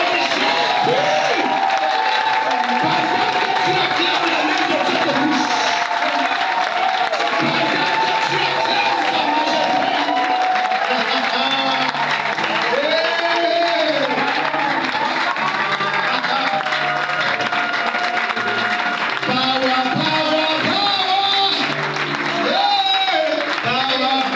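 A church congregation stands to acclaim, with sustained cheering, whoops and clapping from a large crowd filling the room continuously for over twenty seconds, loud and close, with scattered shouts and voices mixed in.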